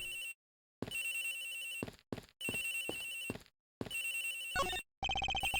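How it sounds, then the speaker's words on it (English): A telephone rings in the Ace Attorney Investigations video game: several loud, bright electronic ring bursts separated by short silent gaps, heard alone and close. "The ringing is coming from somewhere around here."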